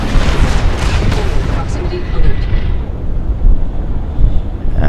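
Neutron cannons on a Super Hornet fighter in the Star Citizen space combat game fire as a dense, continuous barrage of booming blasts. The loud rumbling volleys are steady throughout with a few stronger surges.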